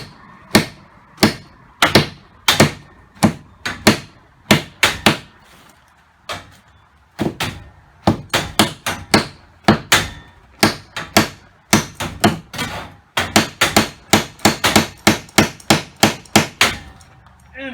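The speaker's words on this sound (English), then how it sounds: "they go about hammering it together, usually with pneumatic nailers now" Repeated hammer blows on wooden framing boards during garage construction, sharp and fairly close, in irregular bursts with a short pause before a faster run of strikes, no talking.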